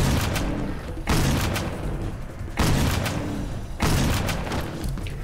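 Gunfire in the hunting video game Cabela's Dangerous Hunts 2013, aimed at a rhinoceros, three loud booming shots spaced about a second and a half apart, each followed by a long rumbling decay.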